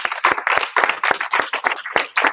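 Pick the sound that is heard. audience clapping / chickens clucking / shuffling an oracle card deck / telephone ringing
audience clapping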